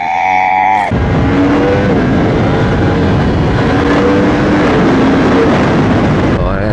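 Yamaha R1 M 2024 motorcycle accelerating on a rain-wet street in Naples traffic, a loud close engine rising in pitch through a sustained pull, with dense road and wind roar and no talk.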